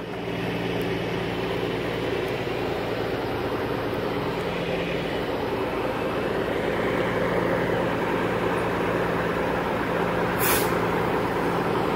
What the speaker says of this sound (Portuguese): Ó o barulho. Ó o freio motor.